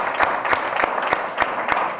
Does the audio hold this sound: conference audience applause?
yes